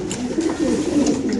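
Lively racer pigeons in a loft cooing steadily nearby, a continuous low warbling murmur of several birds at once.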